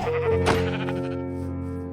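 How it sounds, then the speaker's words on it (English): A pink sheep in the video game Minecraft lets out a single clear bleat over a sustained background tone. "It's a pink sheep."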